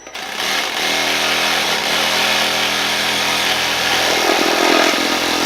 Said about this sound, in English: I take the Sawzall, keeping my thumb at a very slow speed to start, and I'll make a first plunge cut